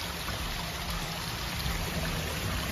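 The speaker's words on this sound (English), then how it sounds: "We found a little waterfall on our steps." Small waterfall trickling down outdoor steps on a hillside trail, a steady, close, full rushing wash of water without pause.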